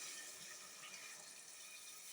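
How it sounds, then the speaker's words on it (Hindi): Water is poured into a pan of frying turnip and meat curry, a steady, bright hissing splash that runs unbroken throughout, fairly quiet and with no voices. "अब जो है हम लोग इसमें पानी ऐड करेंगे"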